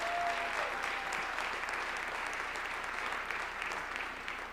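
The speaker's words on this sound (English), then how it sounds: "They deserve a round of applause." An indoor awards-ceremony audience gives sustained, dense applause that holds steady throughout and fades only slightly at the end, with no speech over it.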